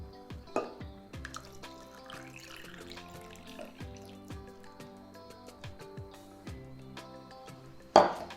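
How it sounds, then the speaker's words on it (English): Coconut milk is poured into a thickened matcha mixture for a matcha latte, with trickling liquid, scattered drips and small clinks, then one louder knock near the end, quiet and close with no talking. "add your coconut milk."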